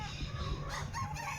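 Sonali hens clucking and fussing loudly, close up and continuous, as a bird is hung up for weighing on a poultry farm after 90 days of rearing.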